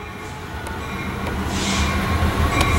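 A train rumbles past close by, a continuous rolling roar with faint metallic clatter and high squeals.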